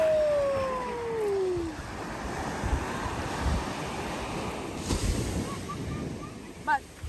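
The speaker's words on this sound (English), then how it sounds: "here we are in Brighton City Beach." Waves roll onto a city beach in a steady, moderately faint wash of surf, with gusts of wind on the microphone and a few brief voices and chirps in the background.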